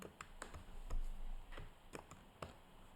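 Typing on a computer keyboard during web coding, with a run of crisp, fairly quiet key clicks at an uneven pace and short gaps between strokes.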